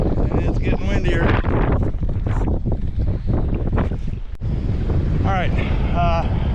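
Strong wind buffets a microphone on a small fishing boat out on Lake Mead, loud gusty roaring in bursts with water sloshing underneath, while someone talks intermittently over it.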